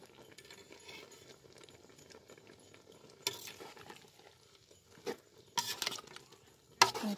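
Bamboo shoot curry ingredients being stir-fried in a pan for a Lao-Thai bamboo shoot curry with fermented fish and frogs: soft sizzling and stirring scrapes, with a few louder clanks of the utensil near the end.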